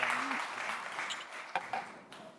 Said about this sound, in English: So big round of applause for the panel.